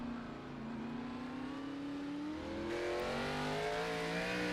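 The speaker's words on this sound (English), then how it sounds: "You hear Corey Tessner really easy and soft back to the gas" A NASCAR stock car in a racing video game, its engine rising steadily in pitch as the throttle is eased back on out of a turn at Sonoma Raceway; a continuous loud drone with layered harmonics climbing over several seconds.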